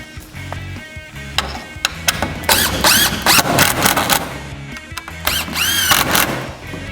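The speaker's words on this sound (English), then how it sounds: "Just screw it into place." A power driver sinks screws into a 2x4 wood frame for pole barn shelving, making loud whirring, squealing bursts with short pauses between screws, close up.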